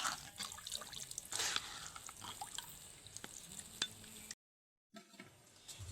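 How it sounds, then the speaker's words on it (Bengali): Washed chhana (cottage cheese) for kalakand is stirred by hand while water drains off, giving faint wet drips, sloshes and soft splashes with a brief silent gap near the end. "আবার একবার একটু নেড়ে জলটা বের করে দেব।"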